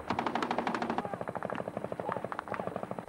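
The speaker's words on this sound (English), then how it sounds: "Gunfire is intense from all directions. Heavy machine guns and tanks outgunning the Taliban." Heavy machine guns fire in a battle with the Taliban: rapid, evenly spaced rounds in loud sustained bursts, with a brief pause before a second stretch of rhythmic shots.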